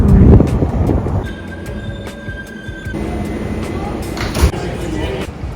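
A train rolls along the rails with a steady rumble and faint metallic squeals, heard from close by with a voice speaking over it.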